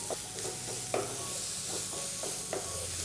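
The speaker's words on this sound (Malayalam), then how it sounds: "ഇത്രയും ചേർത്ത് കൊടുത്തതിന് ശേഷം നല്ല രീതിയിൽ ഇതെല്ലാം കൂടി ഒന്ന് വഴറ്റി കൊടുക്കണം." Masala with grated coconut and tomato is stirred and sautéed in a pan, giving a constant soft sizzle with repeated scraping strokes of the spoon at an uneven rhythm, close up.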